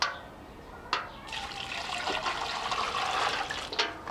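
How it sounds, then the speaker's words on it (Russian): Water pours into a container at a gold-panning site in a mountain gorge, a steady splashing, gurgling rush that builds in the middle and stays fairly close and moderately loud. "Наливаю воду сюда."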